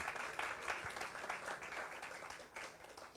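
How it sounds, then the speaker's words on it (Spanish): A church congregation applauds, a faint, distant patter of many hands clapping steadily for a few seconds with no talk over it. "¿Pueden darle un aplauso al Señor?"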